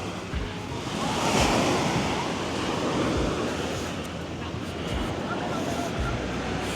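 Sea waves wash continuously onto a beach in Rayong, Thailand, a broad steady roar swelling and easing, with some wind buffeting the microphone.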